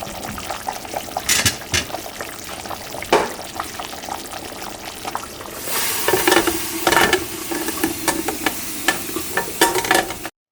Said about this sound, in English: we are going to put the pressure cooker lid back on and let it cook